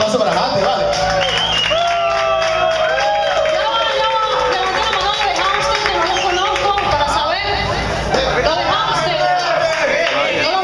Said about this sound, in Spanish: Un aplauso para Haster, vale.